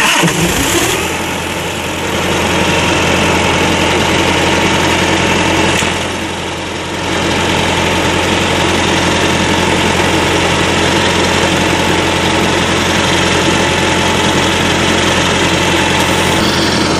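A truck reefer unit's engine cranks over and catches, then settles into a loud, steady, close idle drone that runs unbroken for the rest of the clip, with a brief dip in level partway through and no voices.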